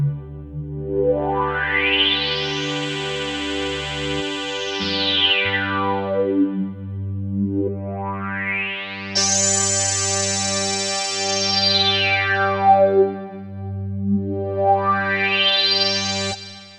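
A Casiotone CT-S1000V tone plays sustained chords as an LFO-driven auto-wah filter sweeps slowly up and down in smooth repeating arcs, bright and buzzy at each peak, loud with no talk.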